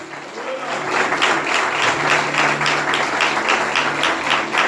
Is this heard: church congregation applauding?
yes